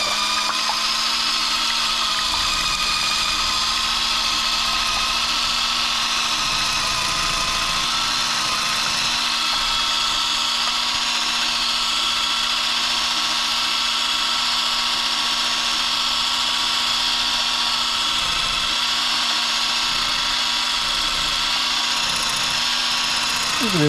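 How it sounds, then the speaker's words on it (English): A small electric hand whisk whirs continuously while beating red velvet cupcake batter, a steady high-pitched motor drone held close and unbroken throughout, with faint talk in the background. "I have my little electric whisk here."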